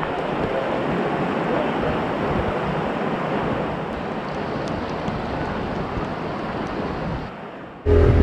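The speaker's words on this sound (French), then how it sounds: "Il s'est mis à pleuvoir et là maintenant c'est l'apocalypse." Heavy tropical rain on Gili Trawangan roars as a dense, loud, unbroken wash of noise close by, ending with a sudden louder burst.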